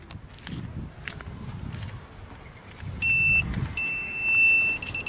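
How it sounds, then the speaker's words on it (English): A sharp electronic beeping from a 2004 Toyota Echo's rear parking sensor, in reverse, starts partway through and repeats in short steady pulses over low rumbling and faint movement noise. "So now it's beeping"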